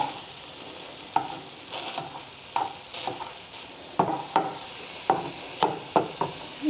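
Bite-sized tofu pieces sizzle in a frying pan over a soft, steady hiss, punctuated by sharp scraping knocks of a utensil stirring them, irregular at first and then in quicker bursts.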